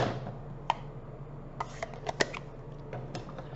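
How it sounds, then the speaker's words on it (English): Small plastic ink pad cases snapped shut one after another at a stamping craft desk, a sparse series of quiet clicks and taps close by. "So let me quickly close my ink pads."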